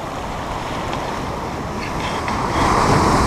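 Pacific Ocean waves washing in on the coast, a dense, steady roar of surf mixed with wind buffeting the microphone, swelling louder near the end, with no voices.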